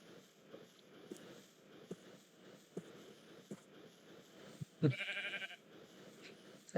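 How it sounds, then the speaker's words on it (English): A single sheep bleats briefly in a video game, clear and close, over a quiet background of soft clicks and light taps. "Hello, sheep."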